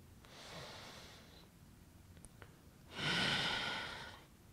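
Deep breaths during an intense at-home upper body workout, with two distinct airy exhales separated by a quiet pause, the second louder and fuller, close to the mic.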